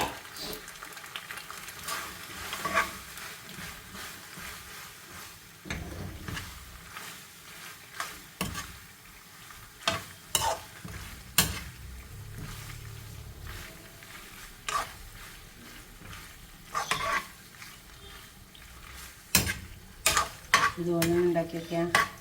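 Paneer macaroni with tomato stirred in a pan over heat, a continuous low sizzle with repeated scraping and clattering spoon strokes at close range, some louder clinks against the metal.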